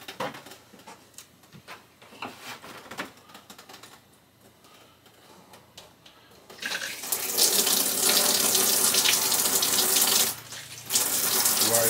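A shower faucet in a travel trailer opens into a loud, steady rush of running water that is briefly interrupted, preceded by quieter handling noise.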